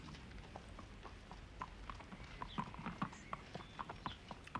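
Horse hooves clip-clop at a steady walking pace, each strike distinct and moderately close, with a few brisk, slightly irregular steps on a quiet outdoor ground.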